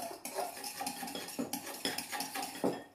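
Raw steak tartare and olive oil being stirred in a bowl with metal cutlery, giving a soft run of quiet scraping and clinking strokes in a steady, uneven rhythm, close by and with no voices.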